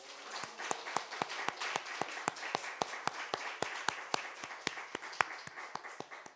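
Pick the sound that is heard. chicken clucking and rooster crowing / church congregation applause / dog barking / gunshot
church congregation applause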